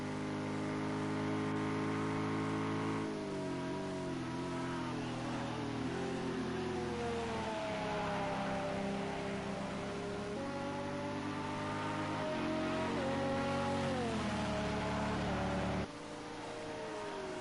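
Race cars exit the Parabolica curve at Monza during an endurance championship round. Engines drone loudly and continuously, with pitch sweeping up and down through gear changes as cars accelerate past.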